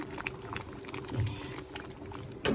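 Fish curry with taro root simmering and being stirred after a splash of raw coconut oil, a soft, steady bubbling and liquid patter close by, with a slight clink near the end and no talking.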